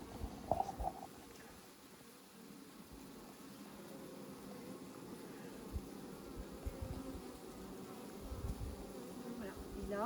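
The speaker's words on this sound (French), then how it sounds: "des abeilles qui sont du même avis que celles de l'intérieur et qui commencent à rappeler" Honeybees buzz around a hive after a swarm has been taken in, a faint, steady drone with scattered soft knocks and rustles nearby.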